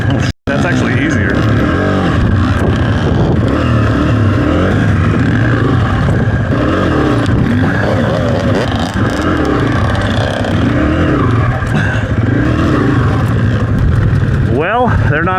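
A dirt bike engine revs hard and continuously during wheelie practice on a training course, loud and close, with the pitch rising and falling as the throttle is worked, and people talking over it.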